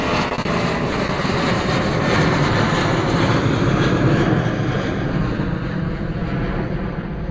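An airplane in holiday livery on runway 09 at Bristol Airport, a loud, steady engine roar that fills the whole stretch without letup and with no voices.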